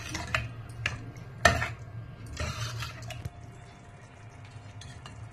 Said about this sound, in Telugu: కలిపి 2 నిమిషాల పాటు బాగా ఉడకనిస్తాం